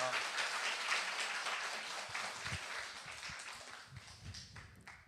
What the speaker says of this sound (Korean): 환영의 박수로 모시겠습니다